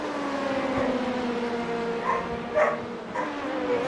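Dogs bark and squabble over a toy, short sharp yaps bursting a few times over a steady engine drone from a sim racing broadcast.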